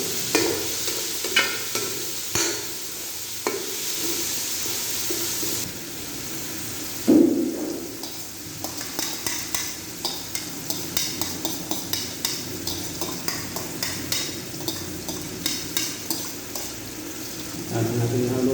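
Bitter melon sautéed with egg is stirred in a pan, a steady run of soft scraping clicks and light sizzle repeating through the whole stretch, close and moderately loud, with no one talking.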